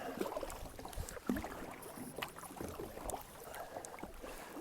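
Kayak paddled along the water off a Cape Breton, Nova Scotia beach, soft irregular splashes and drips of the paddle under faint wind noise.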